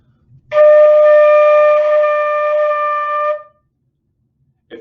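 A single flute note held steadily for about three seconds, clear and bright, then cut off cleanly, with silence around it.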